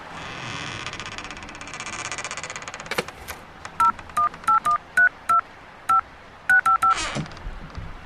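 A number is dialed on a telephone in a phone box: a quick series of about ten distinct touch-tone beeps in an irregular rhythm, close and clear over a low engine-like hum.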